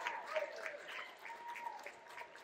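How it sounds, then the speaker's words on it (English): Audience applause at an evening community event, a moderate, steady patter of clapping held at a distance for a couple of seconds, with a faint voice or tone running underneath. "Please, can we give a round of applause for Miss Jamie Mitchell, please?"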